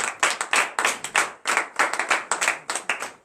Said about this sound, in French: donnez une vive acclamation